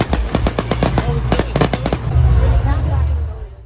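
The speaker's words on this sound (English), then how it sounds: "The fireworks at the end of the concert were awesome" Fireworks burst at the end of a concert in a small Irish town: a loud, rapid string of sharp cracks and bangs, then a rumbling wash of crackle as the volley fades.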